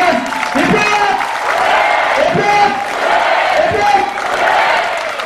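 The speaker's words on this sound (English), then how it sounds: "A big round of applause for all the volunteers." A crowd at a charity walk in Ahmedabad claps and cheers for the volunteers, a sustained wash of applause with shouts and whoops rising over it, fairly loud and steady.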